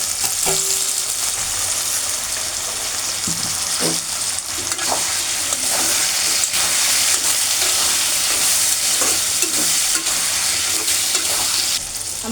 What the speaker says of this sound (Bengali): আমি এখন চিংড়ি মাছটা ভেজে নেব হালকাভাবে।